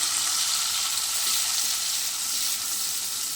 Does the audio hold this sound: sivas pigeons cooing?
no